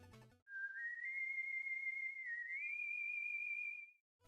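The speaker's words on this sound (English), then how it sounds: "she heard that whistle once again" A single clear whistled tune from the Mega Man video game rises and holds steady, a bright sustained melody alone against silence.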